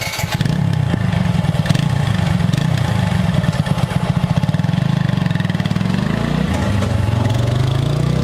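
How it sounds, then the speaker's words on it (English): A TVS Apache RTR 160 4V motorcycle engine idles with a deep, throbbing exhaust note, rhythmic and loud throughout, with slight revving shifts. "if you want to take a listen to the exhaust note"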